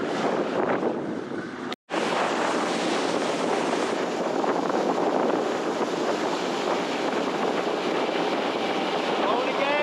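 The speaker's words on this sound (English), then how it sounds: "Blowing the gale, but we're going out." A gale blows hard across a boat out on a bay, with loud, continuous roaring wind buffeting the microphone, a brief dropout near the start, and water noise underneath.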